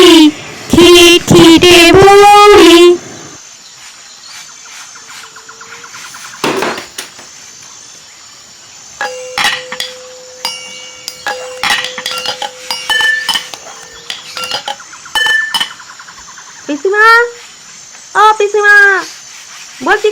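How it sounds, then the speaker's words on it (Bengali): A wok, pots and utensils clink and clatter briefly while being washed in a Bengali home kitchen, quiet metallic taps scattered between spoken voices of a drama scene. "কড়াইটা এখানে ধুয়ে রাখছি"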